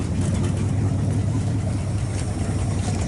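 Engine of a 1959 Ford Galaxie Fairlane 500 idling with a lifter tap, a steady low rumble with fresh tailpipes, close and continuous.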